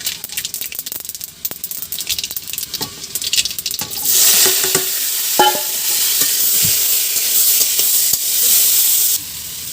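Dried red chilies and mustard seeds hit hot oil in a pan, scattered clatter and crackle giving way to a loud, dense sizzle that holds steadily before dropping off near the end.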